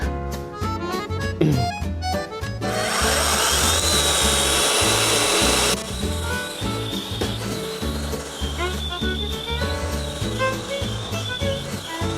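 A GROSSER 142 cordless saw cuts through wood with a loud, close, continuous whine. The tone rises into a harsher, noisier stretch partway through the cut, then settles back to a steady buzzing drone.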